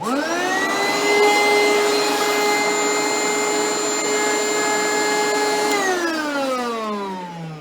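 A knockoff Oreck upright vacuum cleaner with a broken belt runs steadily at close range with a loud whining motor drone, then winds down as the motor slows near the end.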